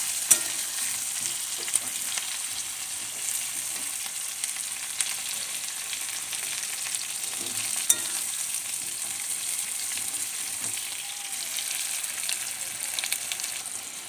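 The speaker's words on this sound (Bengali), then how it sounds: "পেঁয়াজটা আলুটা একটু ভাজা ভাজা হোক" Potatoes and onions fry in a pan with a steady, close sizzle and hiss throughout, broken by a few faint clicks of stirring.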